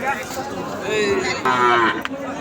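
Sahiwal calves low and moo loudly and close at a busy cattle market, one long drawn-out call running through nearly the whole stretch with another voice briefly joining.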